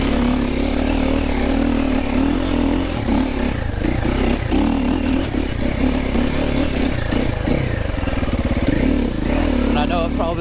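A Triumph TF450C motocross motorcycle runs in a steady, loud engine drone throughout the ride, with people talking over the roar.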